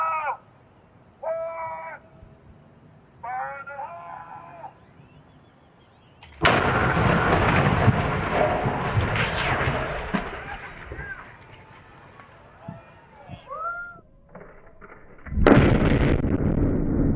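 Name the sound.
demolition blast of concrete highway bridge over I-35, Austin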